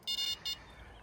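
Electronic bite alarms on a carp fishing rod setup at a lakeside beep in a few short, sharp tones, a run of quick bleeps and then one more, followed by quiet outdoor hiss.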